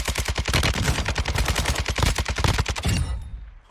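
Rapid video-game gunfire in a team shooter match, a dense string of loud sharp shots fired in quick rhythm for about three seconds before cutting off into quiet.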